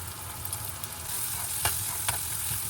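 Onions frying with turmeric in a pan, a soft continuous sizzle with a few sharp stirring clinks near the end, quiet and close with no voices.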